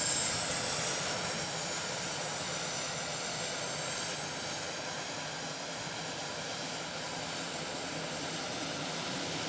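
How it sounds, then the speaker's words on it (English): A Turbo DC-3's turboprop engine roars steadily at close range as it starts, a constant whining rush with a slowly rising high-pitched tone. "The turboprop sounds like a jet, no more buzzing of a piston engine."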